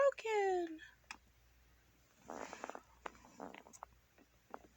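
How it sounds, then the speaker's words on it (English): Brief vocal sounds, then typing on a computer keyboard: a quick burst of soft, close key clicks followed by scattered single taps in a quiet room. "you can't see me typing right now"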